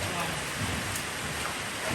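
Rain falling during a morning downpour, a soft, continuous hiss of drops with faint low rumbling underneath.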